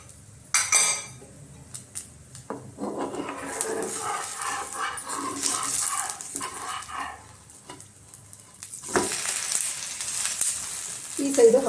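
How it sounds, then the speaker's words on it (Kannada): Roti roasting on a pan with a little oil, crackling and sizzling in bursts close by, with clinks of a utensil against the pan and a few brief noises scattered between. "ನಾನು ರೋಸ್ಟ್ ಮಾಡ್ಕೊಳ್ತೀನಿ ಸ್ವಲ್ಪ ಎಣ್ಣೆ ಹಾಕ್ಕೊಂಡು."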